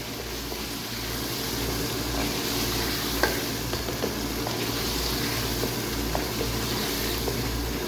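Mutton trotters browning in a pot over full flame, a dense continuous sizzle with a low steady hum underneath and a few faint clicks of stirring.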